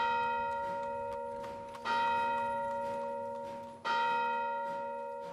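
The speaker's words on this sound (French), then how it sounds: "Minuit sonna au carillon embrumé d'une chapelle proche." A chapel carillon bell strikes at midnight, each stroke ringing out with a long resonant decay, about three strokes roughly two seconds apart, heard alone and moderately distant.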